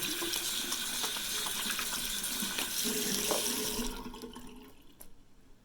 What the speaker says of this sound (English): I'm rinsing my face.